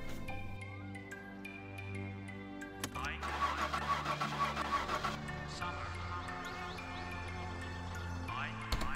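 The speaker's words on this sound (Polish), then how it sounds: "Jeżeli zniknie, możecie zacząć odpalanie samochodu." A car engine starting in the video game My Summer Car: a steady idle hum, then a starter cranking and the motor catching and running unevenly, with someone talking over it.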